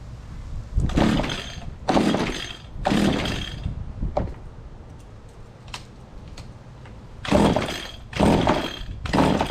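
A small engine on full choke after a carburetor change is pulled over repeatedly, with loud bursts of sputtering cranking in quick succession, a quieter pause, then more pulls as it catches.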